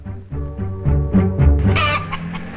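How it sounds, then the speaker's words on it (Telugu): A rooster crows aboard a bus, its loud, close call rising and stretching over about two seconds into a harsh strained end, heard alone with no talking. "ఎవడరా బస్సులో కోడి కోత కూసింది?"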